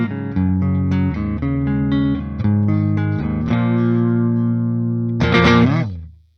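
A 2011 Gibson Billy Morrison Signature electric guitar with heavy effects plays a sequence of sustained, shimmering notes and chords, loud and close, ending with a bright strummed chord that rings out and fades.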